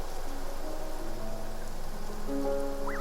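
Steady rain in the Genshin Impact video game, a continuous close patter of drops on surfaces, with faint tonal game music rising near the end.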